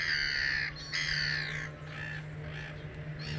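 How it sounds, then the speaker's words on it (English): Harsh, drawn-out gull calls sound close by, two loud squawks followed by softer cries, over a low steady hum. "Seagulls are complaining."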